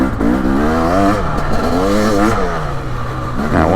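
A 2023 Husqvarna TX300 two-stroke dirt bike engine revs hard on a loamy wooded trail, loud and close, its pitch rising and falling in steady throttle sweeps with no talk over it.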